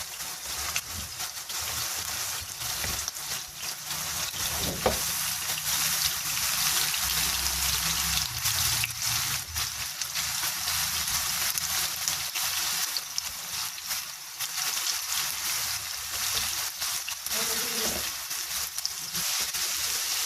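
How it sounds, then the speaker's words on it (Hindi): Garlic, ginger paste and green chillies fry together in a pan for biryani, giving a soft, continuous hiss of oil that holds at an even, fairly quiet level. "ये एक साथ इसको मैं फ्राई करने लगी हूँ।"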